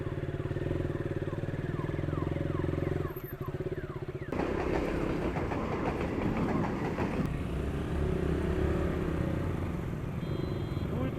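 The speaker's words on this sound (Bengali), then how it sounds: "ট্রেনের জন্য রাস্তা বন্ধ" A train rumbles and clatters past a level crossing nearby in a loud, rhythmic roar, with the hum of waiting vehicle engines mixed in.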